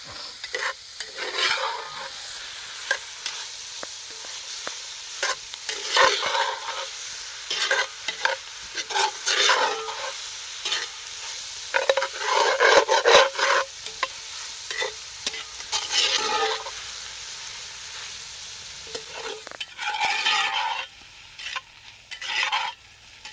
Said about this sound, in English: we're starting to get some caramelization on the onions